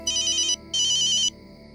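A phone ringtone plays two loud, bright bursts of a repeating electronic melody with a short gap between them, clear and alone with no talk.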